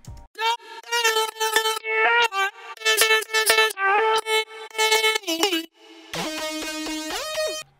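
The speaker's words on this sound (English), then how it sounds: "which consists of vocal chops and some synths" Future house top layer of chopped vocal stabs and synths, playing bright, pitched bursts in a choppy rhythm, closing on a longer sustained synth chord, loud and alone.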